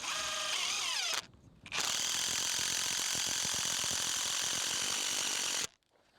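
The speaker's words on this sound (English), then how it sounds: "putting a single screw first into this board so that it can still swing like this to find level" A power drill driving a single screw into a wooden board, close and loud, with a whining motor run that rises in pitch, a short pause, then a long steady buzzing drive that cuts off abruptly.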